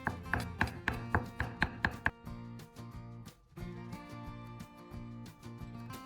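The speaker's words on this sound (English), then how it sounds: "First, finely chop the shiitake mushrooms." A knife chops shiitake mushrooms finely on a board: a quick run of crisp, evenly spaced taps, then a quieter, denser stretch of chopping close by.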